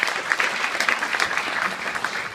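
An audience applauding a speaker's arrival at a lecture, a steady, moderately loud patter of many hands clapping throughout with no voices over it.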